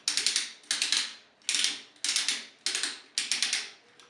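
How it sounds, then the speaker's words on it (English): Ratcheted joints on a Transformers Energon Tidal Wave toy click in quick, close bursts, about six clusters of rapid ratcheting snaps separated by short pauses. "ratcheted shoulders, universal ratcheted elbows, the thumbs are on a hinge to allow for transformation"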